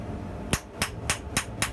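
Five sharp, evenly spaced hammer blows ring out on hot steel while forging a smaller-diameter piece for a pair of wine tongs, each strike crisp and close over a low background hum.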